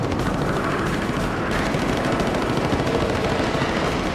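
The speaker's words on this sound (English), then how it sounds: "A flight of 4 streaks in, lobbing cannon shells at long range before any of the Mustangs can engage." Rapid cannon fire from a flight of four German Me 262 jet fighters attacking a bomber formation, a dense, continuous rattling burst of gunfire filling the whole stretch at steady high loudness.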